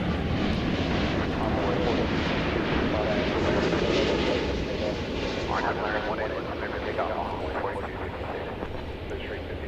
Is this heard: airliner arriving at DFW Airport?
yes